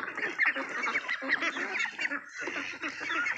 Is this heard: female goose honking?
yes